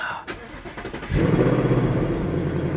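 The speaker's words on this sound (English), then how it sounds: "So let's just start it up really quick, see what's up." A Dodge Charger Dark Horse-style car engine cranks briefly and catches, settling into a loud, steady, close idle rumble; a few light clicks come before the start.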